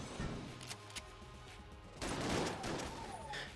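Shotgun blasts from a gun in the game Enter the Gungeon, a couple of loud spreading bursts, the second heavier and longer, standing out over game background noise.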